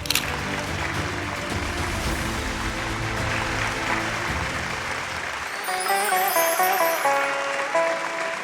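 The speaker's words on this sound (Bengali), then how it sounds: "একটা জোরে হাততালি স্বপ্নময় বাবুর জন্য" An audience applauds at an award ceremony, sustained clapping from a crowd that carries on for several seconds before music rises toward the end.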